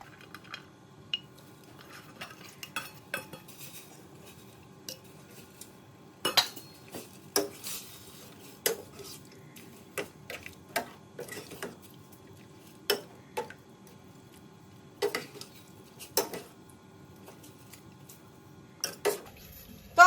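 A utensil clinks and taps against a pot while stirring Malabar spinach curry with minced pork, irregular close metallic knocks and scrapes with quiet gaps between them.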